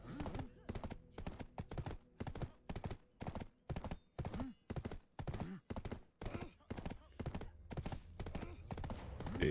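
Horse hooves clip-clop in the Black Desert video game, a steady, evenly paced run of loud, close hoofbeats with a brief pause near the middle, under a person talking.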